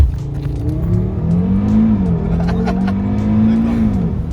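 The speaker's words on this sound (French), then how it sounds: "Là, il va nous faire un launch control." A 400 hp Audi RS3 engine rises in pitch as the car pulls away in a launch control start, heard from inside the cabin. The drone is loud and continuous, dips briefly at a gear change and then climbs again.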